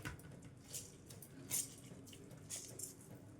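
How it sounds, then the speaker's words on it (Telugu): Water squeezed by hand from grated bottle gourd trickles and drips faintly into a bowl, with a few soft splashes at irregular moments over a quiet background. "ఈ విధంగా పిండేసుకుంటే వాటర్ వచ్చేస్తుందండి"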